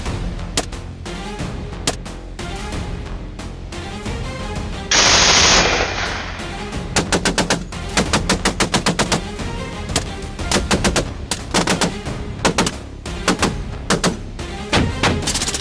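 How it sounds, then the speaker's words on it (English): Rapid gunfire from wild boar hunting at night: a dense burst of shots, then a long run of sharp, evenly spaced cracks, loud and close, with no talk. "Each shot was calm, calculated, and deadly."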